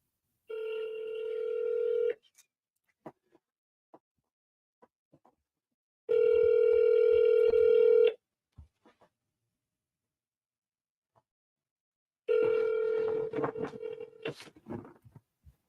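Outgoing telephone call: three long ringback tones, each about two seconds, separated by pauses of roughly four seconds, with faint clicks between rings and some noisy crackle on the last ring.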